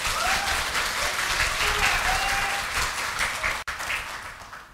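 An audience at a political party leadership candidates' speech event applauds in a dense, steady wash of clapping that fills the hall, then tapers off near the end.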